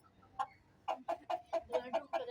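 An Aseel fighting rooster clucks in a quick series of about eight short, clipped calls. They are fairly close but quiet, with near silence between them and no voices.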